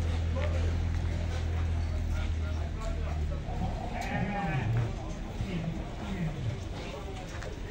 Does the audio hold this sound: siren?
no